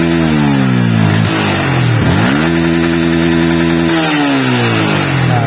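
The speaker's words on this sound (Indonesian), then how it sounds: "Coba saya RPM tinggi lagi." A motorcycle engine being revved hard to high RPM while it is checked for stuttering and sudden stalling, its pitch sweeping up and down across several loud, close throttle bursts with no talk.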